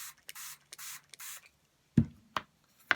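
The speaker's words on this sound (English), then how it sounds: "spray some water into my palette" Three quick, hissing squirts from a spray bottle misting water onto a paint palette come close together, followed by a few sharp knocks and taps.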